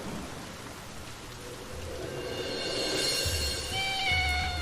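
Heavy rain falling at night, a steady loud hiss of downpour with low rumbling thunder beneath, growing slightly louder, and a cat's faint meow over the rain near the end.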